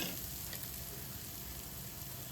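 Ginger and garlic sauté in a pan, a steady, close, hissing sizzle that continues evenly with no talk.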